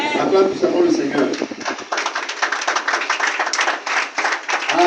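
A church congregation claps and cheers in praise during a lively service, with continuous rhythmic clapping and voices filling the room loudly throughout.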